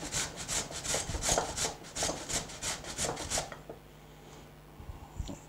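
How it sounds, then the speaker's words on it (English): Potatoes rubbed against a cheese grater for dauphinoise, a quick run of rhythmic rasping strokes up close, then a stop leaving a quiet kitchen hum. "Cheese grater is quicker."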